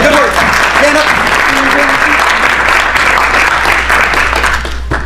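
Sustained audience applause fills the room after a magic trick at a live trading seminar, a dense, steady wash of clapping from start to finish with a few brief voices and cheers mixed in.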